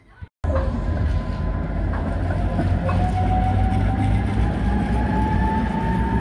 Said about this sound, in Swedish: Rätt bra fart i spårvagnarna ändå.